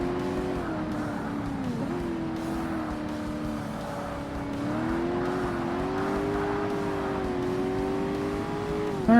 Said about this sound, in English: The car sounds are not the best that they could be